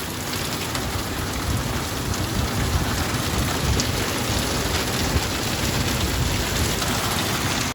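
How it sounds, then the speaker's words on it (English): A torrential, monsoon-like downpour of rain hammers down loud and steady without pause, a dense continuous roar of drops with no voices. "I'm going to put up a little video here just so you guys get to experience what we did with the torrential downpour that we had"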